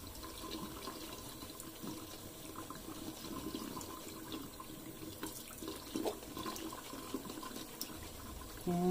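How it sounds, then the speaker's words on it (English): Hot water streams steadily from a tap into a sink, a continuous soft splashing rush heard close up with no talking. "Just getting a little hot water."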